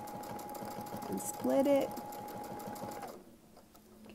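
A home sewing machine doing free-motion quilting runs in a steady close whir, with someone talking briefly over it before the motor stops.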